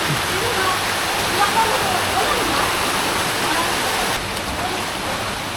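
Steady, loud rush of a waterfall at a falls, a broad continuous roar filling the whole clip with little change apart from a slight drop near the end.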